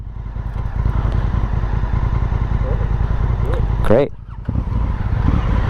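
A Honda Africa Twin CRF1000L police motorcycle runs with a steady close engine drone, with brief talk over it and a sharp clattering burst near the four-second mark before the engine note carries on.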